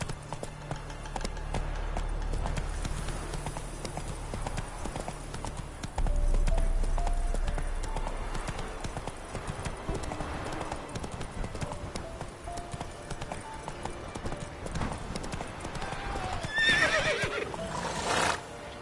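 Roach, a horse in The Witcher 3, gallops with rapid, steady hoofbeats and gives a loud neigh near the end, with the game's music and ambience underneath.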